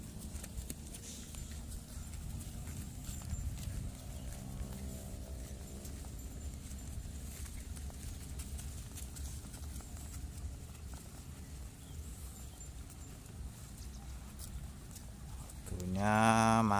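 Herd of swamp buffalo being driven into a pen at a river in Tulang Bawang, Lampung, heard as steady plodding hoof steps and shuffling through muddy ground, with a louder burst of noise near the end.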